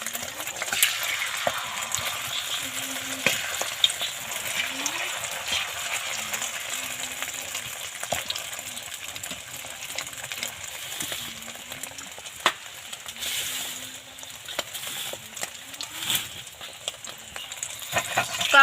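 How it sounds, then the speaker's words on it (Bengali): Egg frying in a pan makes a steady, moderate sizzle close by, punctuated by frequent light scrapes and clicks of a utensil against the pan, with a faint murmur of voice now and then. "ডিমটা ভেজে নেব।"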